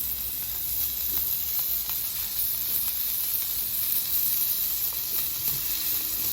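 Beef burger balls sizzling in a little oil on a Camp Chef griddle, a steady bright hiss and crackle throughout, fairly close and without talk.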